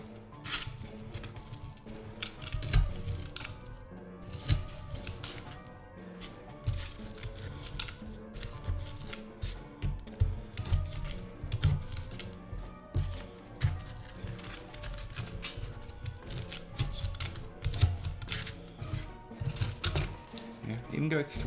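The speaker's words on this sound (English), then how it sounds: "all you want to do really is just grab a couple and just cut them." XPS foam bricks being cut by hand, several pieces at a time, producing repeated short crisp snipping and crunching strokes in an irregular rhythm, with a person talking over the work.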